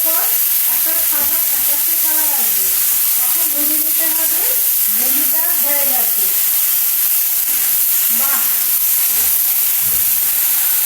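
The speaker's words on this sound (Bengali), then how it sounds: "ভেন্ডিটা একটু নুন দিয়ে আর হলুদ দিয়ে একটু ভেজে নিয়েছি একটুখানি ভাজতে হবে" Okra frying in a pan with salt and turmeric, a steady loud sizzle running throughout, with faint voice-like tones drifting over the hiss at times.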